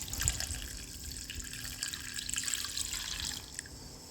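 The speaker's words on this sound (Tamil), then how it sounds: "தண்ணி ஊற்றி ஊற போட்டுடலாம்." Water poured from a tap over a lemon-sized lump of tamarind to soak it for kuzhambu, a steady splashing trickle close by in a kitchen, running for a few seconds with no talk.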